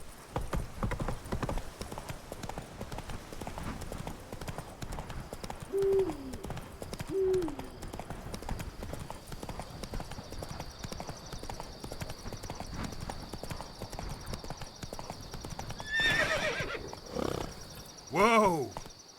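Hooves of the horse Roach clip-clop at a steady walking rhythm in Witcher 3, continuous and moderately loud through most of the stretch, with owl-like hoots and brief chirpy calls breaking in near the end.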